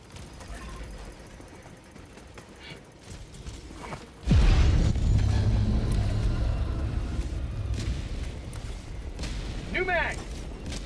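An orbital strike in Helldivers 2 lands with a sudden, heavy blast partway through, followed by a long, loud rolling rumble with further crackling impacts, while a voice talks intermittently.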